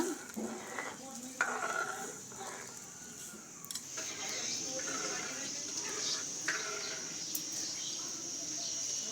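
Whole moong beans, masoor dal and rice are stirred together in a vessel, making soft, continuous rustling and scraping with occasional light clinks against a faint background.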